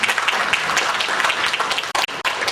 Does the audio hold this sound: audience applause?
yes